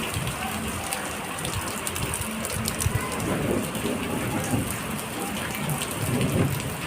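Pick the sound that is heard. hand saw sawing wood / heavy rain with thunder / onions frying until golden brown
heavy rain with thunder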